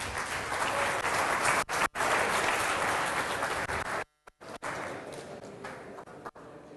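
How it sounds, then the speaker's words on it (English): Audience in a lecture hall breaks into sustained clapping, a dense steady wash of many hands that lasts several seconds, then breaks off in short gaps before trailing away. "Yeah, needs a clap. Come on."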